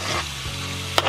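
Onion tipped into a hot pan with meat for a crockpot cheesy tortellini pasta, a close steady frying sizzle over a low hum, ending in a short sharp clatter.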